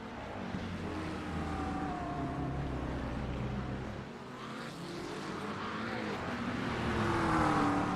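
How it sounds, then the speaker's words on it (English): Acura race car engine in a sim racing sports car championship, a steady droning engine note rising and falling through gear changes, fairly close and loud with no talk. "Easy to pick out that Acura. Just the sound alone is way different than most of the GT3s."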